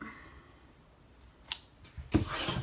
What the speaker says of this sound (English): we're going to cut our string because it's still attached to the ball